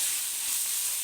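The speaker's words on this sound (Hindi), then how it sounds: "मीडियम से थोड़ी लो आंच पे मैं इसको फ्राई करूँगी।" Chicken pieces frying in a pan over medium-low heat give off a brief, steady hiss of fine sizzle with no voices.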